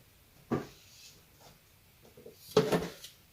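A plastic three-drawer storage box is handled, giving two short clattering knocks, the second louder and more rattling, with quiet gaps between them.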